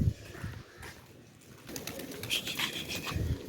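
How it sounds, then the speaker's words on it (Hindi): Soft coos of Badshah pigeons and rustling nearby, low and intermittent, with some brighter chirpy sounds in the second half. "ये जी बादशाह कबूतर की फ़ीमेल है ये।"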